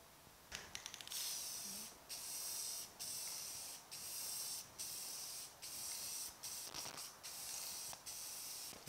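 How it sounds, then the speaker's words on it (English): Rust-Oleum clear coat is sprayed from an aerosol can onto paint test panels for an AMC Matador red spray-out, a series of close, steady hissing bursts of about a second each separated by brief gaps, with no speech. "We're gonna put a couple of light coats of clear on here so they're really glossed out."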